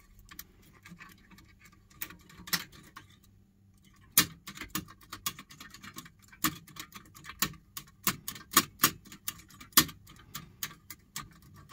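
Tension tools and hooks working a lever lock open, giving irregular sharp metallic clicks and ticks, sparse at first and then denser, close up and fairly quiet, with no talking.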